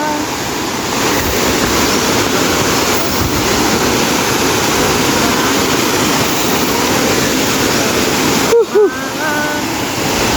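Bunga waterfall roars steadily as a dense, constant rush of falling water, close and loud throughout, with brief voices breaking in near the end.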